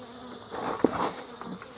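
A honeybee buzzes close by during a beehive inspection, a short agitated drone that swells and fades within a couple of seconds over quiet background.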